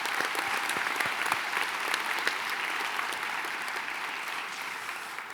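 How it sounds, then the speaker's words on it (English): A graduation audience at an MBA for Executives ceremony in San Francisco gives the professors a long, steady round of applause, dense and close throughout and easing slightly toward the end. "A very long round of applause for them, please."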